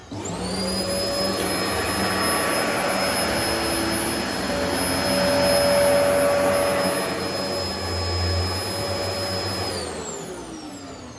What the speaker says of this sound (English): So first of all, we're going to use the Dyson.